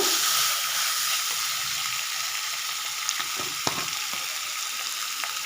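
Green chillies and curry leaves frying in hot oil for a chicken gravy give a steady, close sizzle with a constant bright hiss and a few soft stirring clicks, with no voices.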